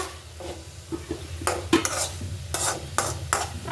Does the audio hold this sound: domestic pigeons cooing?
no